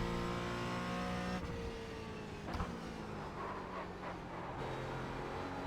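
A race car laps the Bathurst circuit, its engine revving loudly with rising and falling pitch through gear shifts and sharp downshifts as it brakes for corners, heard up close and alone.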